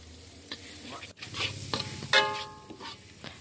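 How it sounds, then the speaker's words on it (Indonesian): A ground spice paste for stir-fried kambas greens fries in oil with a steady sizzle, while a utensil scrapes and stirs in scattered, uneven strokes close by. "Kita aduk-aduk sampai merata ya."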